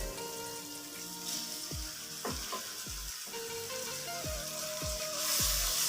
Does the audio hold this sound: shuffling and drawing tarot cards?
no